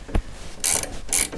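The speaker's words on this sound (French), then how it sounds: "Clé plate à cliquet, avec la tête articulée comme ça va faire gagner du temps." Ratcheting flat wrench with an articulated head working on a Citroën C6 driveshaft: a short low knock, then two bursts of bright, rapid clicking ratchet teeth, close and fairly loud.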